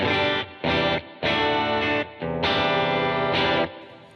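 Clean-toned electric guitar chords struck in a handful of short bursts with brief gaps between them, loud and close, with no voices.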